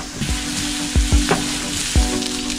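Fried rice sizzling steadily in a hot pan, with a few sharp scrapes and knocks of a utensil stirring it; close and fairly loud, no voices.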